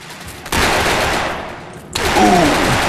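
Brick Force video game gunfire: a dense burst of rapid automatic shots cuts in abruptly, fades, then resumes with another loud volley, close and full.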